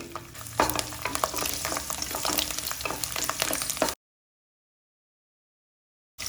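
Garlic and mustard seeds sizzle in oil left over from frying bitter gourd, a close, steady crackling fry with stirring clatter, then a sudden cut to silence before the sizzle returns briefly.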